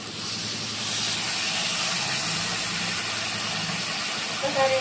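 Chicken frying with browned onions in a pan gives a steady, close sizzling hiss that holds throughout, with no clear voice over it.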